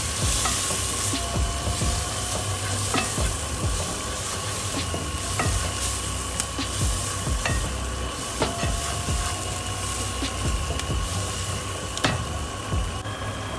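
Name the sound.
curry spices frying and being stirred in a pan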